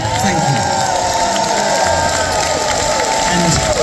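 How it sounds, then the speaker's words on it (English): Concert audience at a live rock show in a Shepherd's Bush venue, a dense, loud wash of applause and cheering with whoops rising over steady crowd roar, heard close and continuous throughout. "We should applaud."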